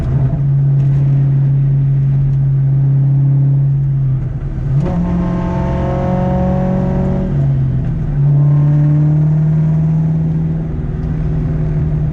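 A 2003-2004 car accelerates through a power shift, its engine droning loud and steady, then a brief dip in pitch as the gear changes and the revs build again, with no speech.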